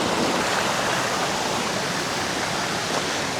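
A waterfall at Bato Puti in South Cotabato, a constant dense roar of falling water, close and loud, unchanging throughout with no voices.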